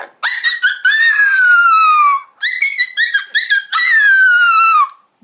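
A person imitates a puppy crying, giving a close, loud series of high whining, whimpering cries in three bursts with short pauses between them.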